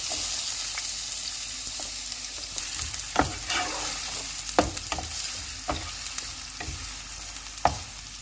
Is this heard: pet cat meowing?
no